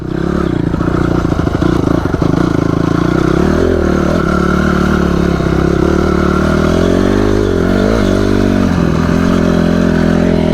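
A motorcycle engine roars loud and close during first wheelie practice, holding a strong sustained drone with throttle surges and shifting pitch, and some clatter and scraping mixed in.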